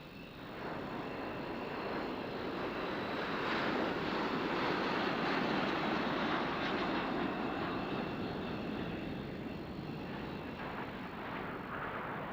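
A formation of six aircraft flies past at an air show at RAF Cottesmore, a broad, steady engine roar that swells slightly toward the middle and holds loud and continuous, with no talking.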